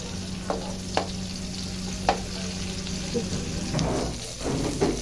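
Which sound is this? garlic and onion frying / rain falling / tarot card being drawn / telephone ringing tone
garlic and onion frying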